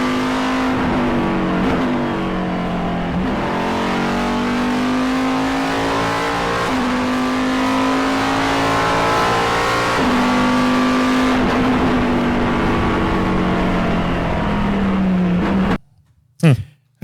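A high-performance car engine revs hard and continuously, close and loud, with the pitch rising and falling through repeated throttle blips before cutting off abruptly near the end.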